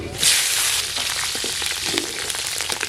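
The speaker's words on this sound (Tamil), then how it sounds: "பச்சை மிளகா பொரிஞ்சிருச்சு" Green chilies and mustard seeds crackle and sizzle in hot oil, a loud steady frying hiss that flares up at the start and continues throughout.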